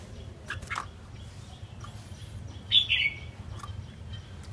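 Caged red-whiskered bulbul gives a few short chirps and one bright whistled call over a steady low background hum, with sparse calls and gaps between them.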